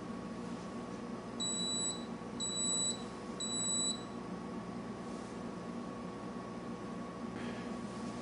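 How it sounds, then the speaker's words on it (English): A MASH brewing system sounds three short, evenly spaced electronic beeps at the end of a step, bright and clear over a steady low hum, then the hum continues alone. "A momentary alarm will sound and the MASH will begin warm-up to the step 3 temperature"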